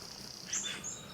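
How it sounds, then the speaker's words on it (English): A wren sings outdoors in the morning, a thin high chirping warble heard at moderate distance over steady low background noise, with no talking. "That's a wren singing its head off."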